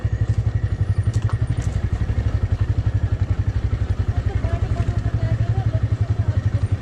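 A motorcycle labouring up a rough, dangerous dirt road in first gear, its engine thumping in a fast, steady pulse close to the microphone with clattering from the track, while people talk over it.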